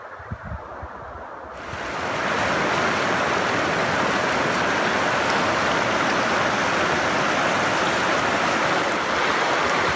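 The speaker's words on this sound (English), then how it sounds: "I just did my first stream ford of this hike, Summit Creek" Summit Creek, a mountain stream being forded on a backpacking hike, rushes nearby as a dense, continuous wash of flowing water that swells in after a quieter start and holds steady.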